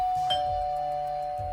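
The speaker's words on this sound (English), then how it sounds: "the doorbell rings aloud" In the video game Belle Automata, a doorbell rings as a sustained, clear electronic chime with a soft strike at the start, moderately loud and held steady with nothing over it.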